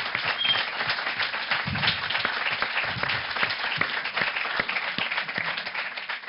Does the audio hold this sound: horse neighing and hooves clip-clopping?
no